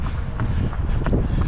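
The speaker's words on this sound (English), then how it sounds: "You can probably hear how windy it is." Strong wind buffets the microphone outdoors at a parkrun, a low rumbling roar with gusty pulses lasting the whole short moment, no talk.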